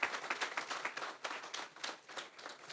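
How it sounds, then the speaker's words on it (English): Quiet, thin clapping from a modest audience at a community re-entry program graduation, a loose pattern of individual claps heard at a distance with distinct hand strikes rather than a dense roar. "So give him a round of applause"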